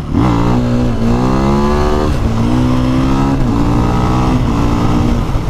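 A 2020 KTM 500 EXC-F dirt bike engine revs hard and close, its pitch rising and falling through several quick throttle pulls in a loud, continuous roar.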